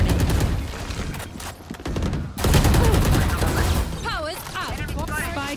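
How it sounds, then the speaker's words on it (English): Killjoy's swarm grenade goes off in Valorant, a dense run of rapid popping bursts with sharp cracks, heavy and close, followed by chirping electronic tones with voices speaking under it. "Placing swarm grenade."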